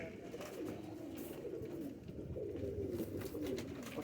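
Patterned pigeons cooing steadily in a loft, a continuous low murmuring coo from several birds throughout, fairly close, with no talking.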